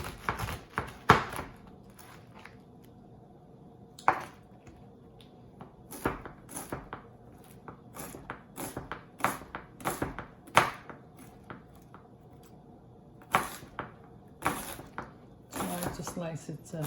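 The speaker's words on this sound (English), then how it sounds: "Now I will cut the red cabbage" Knife slicing red cabbage on a board for coleslaw, sharp irregular cutting thuds and crunches in short bursts separated by pauses, close by, with a voice speaking at times between cuts.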